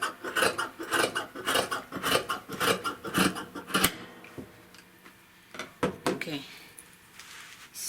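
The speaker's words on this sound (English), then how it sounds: "the rough edge, you trim it out." Scissors snip rapidly through fabric, trimming the rough edge for a peplum skirt, in a quick run of close, crisp cuts that thin out into a few scattered snips.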